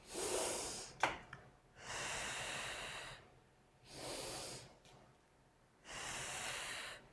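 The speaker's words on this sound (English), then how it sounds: "And now we're going to do a very deep breathing." Deep, slow breathing during a wellness exercise: three long, airy breaths spaced a few seconds apart, close and soft, with a brief sniff between the first two.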